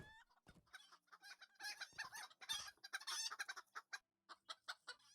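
Chicken clucking and squawking in Lord of the Rings Online, a busy run of sharp, close clucks and calls in quick irregular bursts, with no talk over them.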